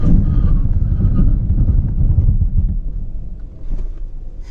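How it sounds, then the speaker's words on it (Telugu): A Skoda Rapid brakes hard from 120 km/h. A steady, loud low rumble of road and wind noise eases as the car slows, with a brief swell near the end. "నేను ఇందాకైతే 120 km స్పీడ్లో అయితే నేను బ్రేక్ అప్లై చేశాను."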